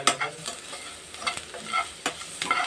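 Onions with salt and turmeric frying in a pan, soon joined by green chillies, giving a close sizzle broken by repeated scraping stirs at an irregular rhythm, with no voices.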